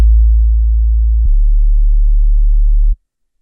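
A pure, steady low sine tone holds for about three seconds, briefly clicking once partway through, then cuts off abruptly into silence.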